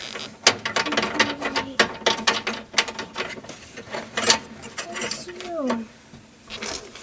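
Ratchet wrench clicking as a nut with a sliding washer is snugged onto a tow hook bracket on a 4th-gen Dodge Ram Sport, quick bursts of close ratcheting with faint squeaks and a voice in between.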